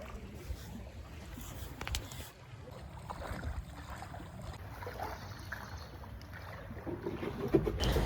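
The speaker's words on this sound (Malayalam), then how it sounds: "നല്ല രസമുണ്ടല്ലേ ഇങ്ങനെ വള്ളത്തിൽ പോകാനായിട്ട്" A small country boat moves through floodwater, giving a soft continuous wash of water with light wind buffeting on the microphone and a few faint splashes and knocks toward the end.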